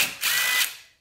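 A ratchet clicks out one quick, close burst as it turns a bolt on the accumulator cover of a 4L80E transmission, then the sound fades within a second.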